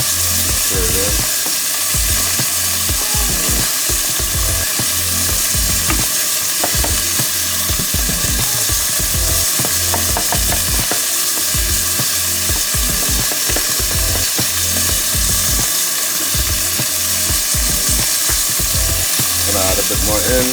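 Plant-based sausage and San Marzano tomato sauce with basil sizzling steadily in a pan while a spoon stirs it, with a constant loud frying hiss and scraping, clacking stirs layered over it.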